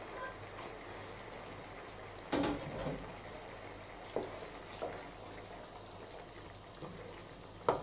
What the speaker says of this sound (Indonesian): Sekarang aku akan mencampurkan jamurnya